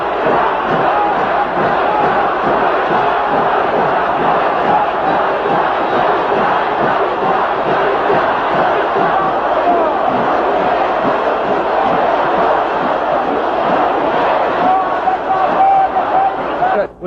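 A street crowd of several thousand people in Iran, a loud, unbroken roar of many voices shouting and chanting together, steady and close for the whole stretch.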